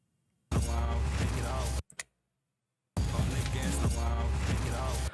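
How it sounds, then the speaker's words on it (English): A sound effect run through a keyframed low-pass filter, turning muffled and dark; two dense, loud bursts about a second and a quarter and two and a quarter seconds long are separated by a near-silent gap with a brief click. "suddenly the audio gets very muffled and dark"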